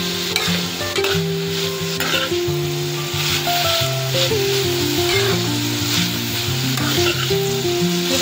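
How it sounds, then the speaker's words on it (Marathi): Snake gourd cooking in a pan for a Maharashtrian dry stir-fry, sizzling steadily and close up with stirring scrapes throughout, under a continuous tonal hum. "एकदा परत ही भाजी मी परतून घेणार आहे।"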